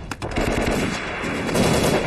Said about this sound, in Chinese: 都给我停止射击